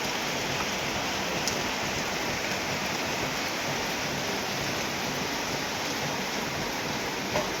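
Heavy, steady rain pouring down in Mahachai, a loud, dense wash of drops that fills the whole stretch without pause and with no voices.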